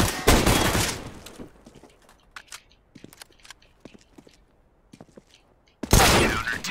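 Pistol shots in a shooter video game: loud bursts at the start and end frame a quieter stretch of scattered clicks and sharp single reports, like footsteps and distant shots.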